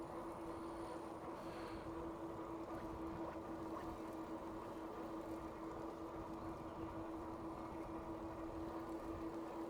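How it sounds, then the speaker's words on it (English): Rear tire and motor of an Aventon Aventure electric bike, a steady, loud drone with a constant humming tone running unbroken through the whole stretch, with no talking. "My back tire seems to be making more noise than normal."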